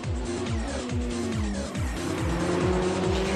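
A BMW M3 GT2 race car at the Nürburgring 24 Hours race roars loudly and continuously, its engine revs climbing in repeated sweeps between gear shifts, with a hint of tyre noise.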